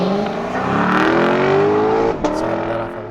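A 2021 Lexus LC500 engine held on the brake and floored at full-throttle launch, with a loud, sustained rising rev close by that dips briefly near the end.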